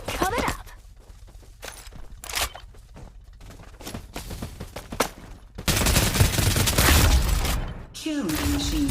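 Rapid gunfire bursts in the Farlight 84 shooter game, sharp repeated shots and volleys over game sound effects, building to a dense, loud stretch of continuous fire near the end.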